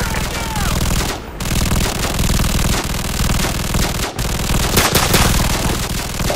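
Rapid, loud machine gun fire in the video game Call of Duty 4, sustained bursts with brief pauses, dense and continuous amid battlefield clamor.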